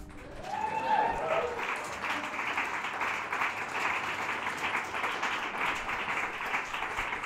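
Applause from an audience at an open music session fills the room, a broad continuous wash of clapping at moderate distance that holds steady throughout with no voices on top.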